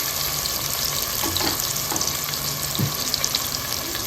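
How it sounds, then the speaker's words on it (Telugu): Chopped onion pieces and green chillies frying in hot oil for a goat head mutton curry, a continuous crackling sizzle with a few soft stirring clinks, close and steady, no talking. "ఆయిల్ హీట్ అయింది. ఇప్పుడు ఉల్లిపాయ ముక్కలు వేసేసుకుందాం. మళ్ళీ పచ్చిమిర్చి కూడా వేసేసుకుందాం."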